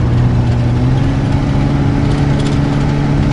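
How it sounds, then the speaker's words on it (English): The engine of a 1978 GMC Palm Beach motorhome drones loudly and close as it climbs Spring Mountain, Nevada, at about 30 mph, its low steady hum pulsing slightly as it cycles. "the engine's sort of cycling. You hear that cycling?"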